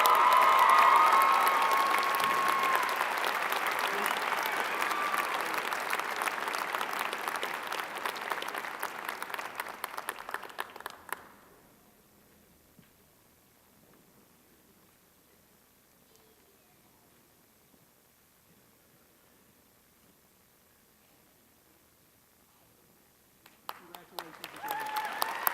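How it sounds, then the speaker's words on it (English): Loud audience applause at a spring 2018 university commencement ceremony, sustained broad clapping for about ten seconds before fading out to near silence, then a brief new burst of clapping at the very end. "Let's give them a round of applause for their achievement."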